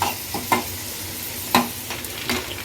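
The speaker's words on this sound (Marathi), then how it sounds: "थोडी चिंच पण टाकायचे थोडंसं ब्राऊन करून घ्यायचं आहे" Tamarind and chana dal being roasted in a pan give a soft, close sizzle with a few sharp spoon scrapes and stirring knocks at irregular intervals.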